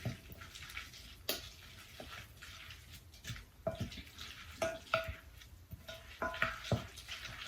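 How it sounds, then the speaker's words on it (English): Corn, mayonnaise, onion, lime juice, salt and Parmesan cheese being stirred together in a bowl for a bean and corn dip, soft wet squelching and scraping strokes, quiet and close, with occasional spoon taps. "Now next thing we're going to do is we're going to mix it all together."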